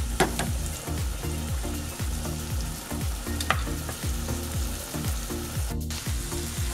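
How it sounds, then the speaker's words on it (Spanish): Tomato fries with bacon in a pan, a steady close sizzle broken by regular stirring scrapes and clacks every half second or so. "Vamos a dejar ahí para que se fría bien"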